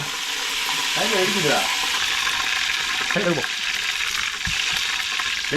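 Hot oil crackles and sizzles steadily as curry leaves are dropped in while cooking chicken biryani, with bursts of spattering and a faint voice briefly in the background.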